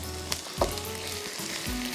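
Minced meat sizzles steadily in a pan for enchiladas, with a near, continuous frying hiss broken by a few soft stirring scrapes and knocks; no voices.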